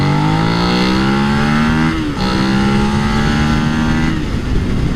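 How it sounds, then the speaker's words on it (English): A Suzuki SV650 V-twin motorcycle accelerates hard, its engine note climbing steadily, dipping briefly at two gear changes and rising again, loud and close throughout. "Yeah, it's a big V-twin vibe. It feels lovely. I feel it rumble. It's a rumble."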